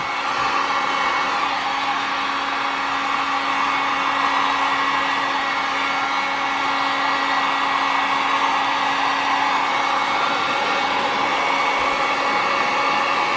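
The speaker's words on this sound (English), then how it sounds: "Take my heat gun and soften it up a little." A heat gun blows steadily to soften a hose for flaring, giving a loud, even hair-dryer-like whoosh with a constant hum that runs unbroken throughout.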